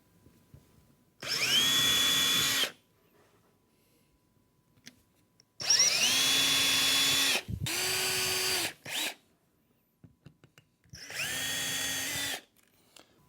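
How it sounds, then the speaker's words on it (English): A power drill runs in four separate bursts of one to two seconds each, drilling holes in a drawer-unit side panel, with quiet pauses between; close, loud, whining motor. "That's my holes drilled for my right hand panel."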